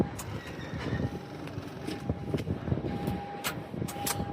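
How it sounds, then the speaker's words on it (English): A Suzuki Carry round-eye mini dump truck idling after being restarted, a steady rumbling engine with a rhythmic low chug close by. "Oh yeah, you can hear the engine now."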